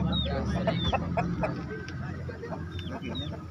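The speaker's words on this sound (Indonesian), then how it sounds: "Ayam silangan Birma." Burmese crossbreed chickens cluck and chirp repeatedly at a weekly chicken market in Daya, Makassar, with several birds calling close by amid a busy crowd murmur and people talking.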